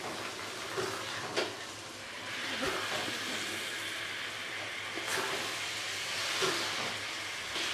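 Chana dal tipped into a pan of hot leftover oil gives a steady, broad hissing sizzle throughout, with a few sharper crackles and bursts, fairly close and loud with no talking.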